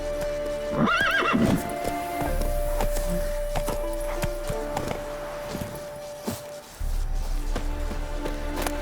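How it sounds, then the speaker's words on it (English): Horse galloping in the video game The Witcher 3, with a loud whinny near the start followed by continuous hoof clip-clop and game ambience, no talking. "Run, Roach."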